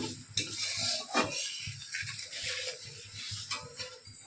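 Vegetables stirred and sautéed in oil with a spoon or spatula against a pan, a mix of potato and pointed gourd with poppy-seed paste, giving repeated scraping clinks and light utensil knocks over a faint sizzle, close by with no talk.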